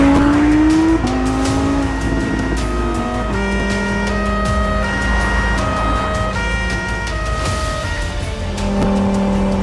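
Cars racing in the BeamNG driving game, with high engine notes that shift pitch as gears change, sharp tire squeals and a passing car, loud and continuous with no talk.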